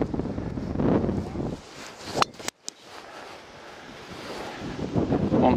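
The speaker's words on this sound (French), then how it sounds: "mais ouf, le vent, là, je te dis, c'est impressionnant" Strong gusty wind sweeps across an open golf course in Miramas, buffeting the microphone in rough roaring surges with a sudden drop and sharp pops midway before rising again.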